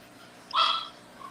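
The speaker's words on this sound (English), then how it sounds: "He's hearing you talk to him, and he's in there barking." A dog barks once behind a gate, a single short, muffled yelp at moderate distance over a quiet background.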